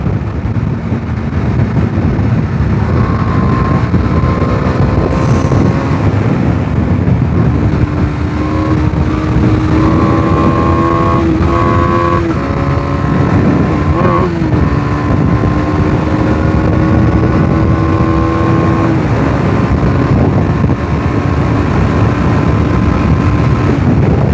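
A Dominar 250 motorcycle is ridden hard through bends, its engine droning loud and continuous under heavy wind buffeting, pitch rising and falling as the rider works through the gears.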